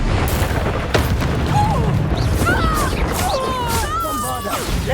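Confringo fire spell detonating in the Hogwarts Legacy video game during a duel, a loud boomy blast followed by crackling magical effects and whooshing tones, mixed with game voices and music throughout.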